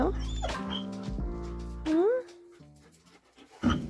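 A dog left indoors and eager to go outside makes high, sliding whimpers and whines, with short yips and panting breaths mixed in, close and fairly loud in a small room.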